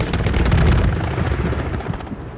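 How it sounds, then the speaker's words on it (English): An aircraft strafes the area in the WW2 shooter Hell Let Loose. A rapid burst of loud gunfire rattles at the start, then trails off under a rumbling background. "So an aircraft is strafing the area."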